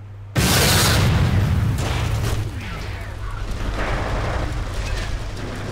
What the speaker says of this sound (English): Look at all these explodey barrels.